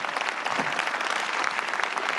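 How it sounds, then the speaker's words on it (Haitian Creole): Steady applause from socialist and ecologist deputies in the French National Assembly, a dense even patter of many hands sustained throughout without a break. "les députés socialistes et écologistes ont applaudi"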